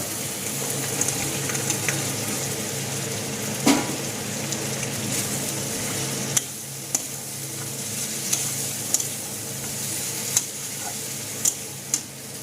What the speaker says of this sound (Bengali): এবার আমি ভেজে রাখা বড়ি আর আলুগুলোতে দিয়ে দিব।